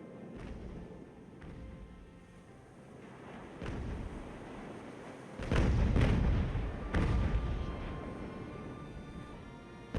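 Sailing warship cannon volleys firing in the Ultimate Admiral: Age of Sail naval battle game, a series of deep booms and rumbling blasts, the heaviest cluster midway, over a low continuous battle ambience.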